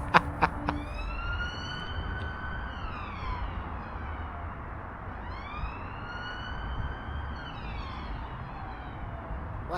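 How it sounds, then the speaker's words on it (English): A police siren wails as it travels along a road and over a bridge, its rising and falling tone fairly distant and steady over a low, rumbling background, with no talking. "I'm not sure if you picked that police siren up or not"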